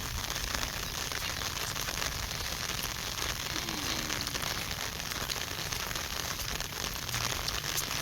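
Steady, dense rain hisses evenly across the whole stretch, a continuous wash of patter with no voices.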